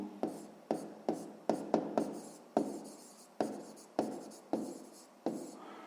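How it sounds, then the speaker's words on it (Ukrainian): Pen writing out the answer to a sixth-grade math exercise on paper, a run of sharp scratchy strokes and taps in an irregular rhythm, close and clear with no talk. "Ну що ж, записуємо відповідь. Давайте я тут запишу."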